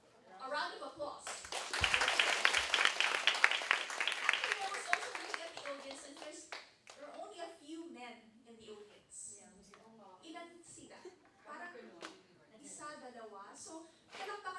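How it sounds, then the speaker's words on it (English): An audience at a women's policy dialogue applauds the discussion panel: a burst of dense clapping swells for a few seconds, then thins into scattered claps as a voice begins speaking over the fading applause. "a round of applause."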